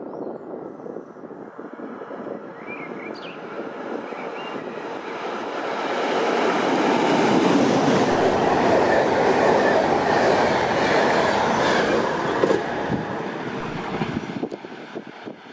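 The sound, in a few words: train passing through Grafing railway station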